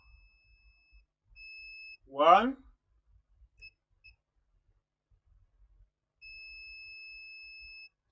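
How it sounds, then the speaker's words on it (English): A multimeter continuity beep sounds while probing a ceramic capacitor on a laptop motherboard, steady electronic tones heard twice with gaps between, plus one brief spoken word. "You see that ceramic capacitor, which is beeping."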